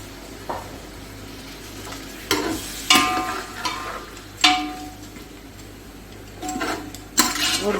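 Tomatoes added to a pot of frying onions for beef masala pulao, giving a sizzle with repeated scraping strokes of a spoon against the pot at an irregular pace.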